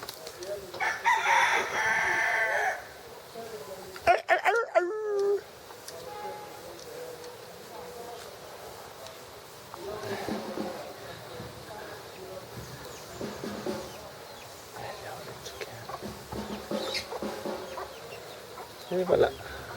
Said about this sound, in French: Ils ont des poules partout ici, là.